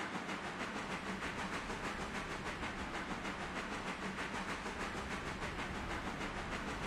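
A heavy coal drag train in the video game Railroader rolls steadily along with a dense, continuous rumble and hiss, with faint rhythmic wheel clatter and no talking.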